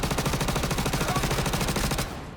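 Rapid automatic gunfire from NPC enemies in the Star Citizen video game, dense sustained bursts of fast repeated shots at close range, loud throughout before cutting off near the end.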